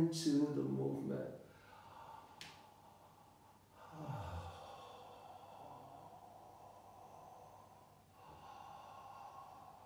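Deep breaths drawn and released during slow myofascial unwinding movement, a sharp snorting inhale at the start, then softer, longer breaths in and out, close and quiet.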